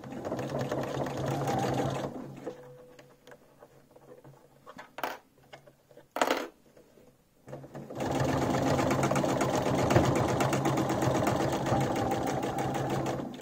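A sewing machine stitches a seam through the teeth sections of a fractured-skull sewn piece. Its steady whirring runs for a couple of seconds, stops for quieter handling clicks and rustles, then starts up again and keeps going.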